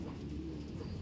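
A racing pigeon coos steadily at close range, a low soft murmur running through the whole short moment with no voices.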